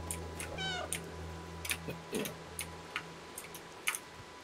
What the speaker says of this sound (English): Left alt to meow.